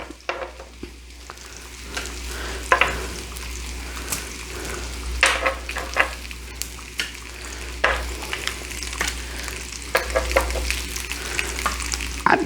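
Bacon frying in a pan for a full English breakfast, a steady close sizzle with repeated stirring and scraping bursts throughout and no talking.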